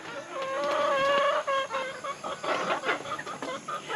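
Chickens cluck and squawk nearby in a busy, overlapping chorus on a backyard farm, with a longer crow-like call near the start and choppy clucks after.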